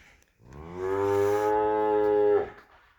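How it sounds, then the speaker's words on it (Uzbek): A single cow of a Russian breed, raised on a large farm, gives one long, loud, close moo lasting about two seconds, with no talking around it. "Mana bu molimiz nima deyapti?"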